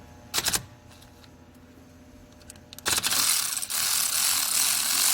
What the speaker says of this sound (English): remove this nut in the middle here